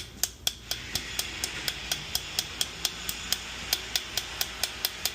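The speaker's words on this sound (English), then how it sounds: "you just get one of those and then you kind of just hammer it in" Sharp metallic hammer taps on a tool driving a part into a Subaru EJ25 engine during assembly strike at a quick, fairly even rhythm, about a dozen and a half blows, close by with a faint background hum.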